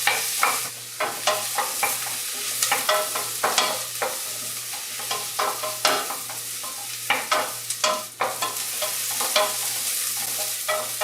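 Onions and other vegetables softening in a soup pot for tomato soup, heard as a low sizzle broken by repeated sharp clinks and scrapes of a utensil stirring against the pot, close and alone.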